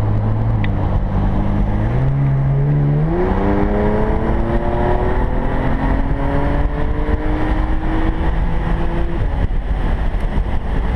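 A 2013 BMW 335is tuned with a JB4 revs in sport mode, its engine note climbing steadily to over 7,000 RPM, then falling back; loud and close throughout, with no talk.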